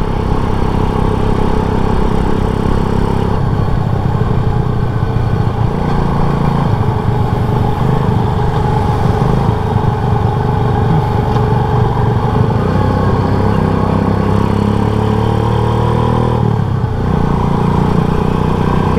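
Classic motorcycle engine running steadily while being ridden at a relaxed pace, a continuous low, rumbling drone heard close and loud throughout, with no talking.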